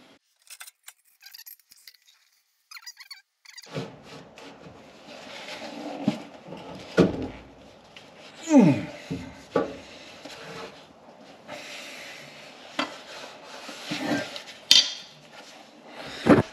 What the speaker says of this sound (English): I'll get a tool of some sort and straighten this dent out